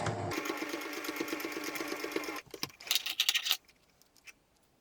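Sewing machine stitching a fabric book cover in one steady, close run of rapid stitches, then a few brief clicks and rattles before it goes quiet.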